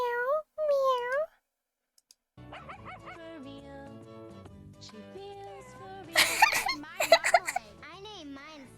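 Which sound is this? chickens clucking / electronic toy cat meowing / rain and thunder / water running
electronic toy cat meowing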